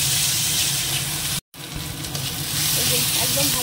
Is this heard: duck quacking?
no